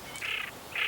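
Pochard duck calling in winter, two short, faint rasping notes from a wetland bird with a quiet gap between them.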